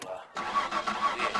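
A warm car engine cranks and catches in My Summer Car, then settles into a steady mid-pitched idle, close and loud, with no talk over it.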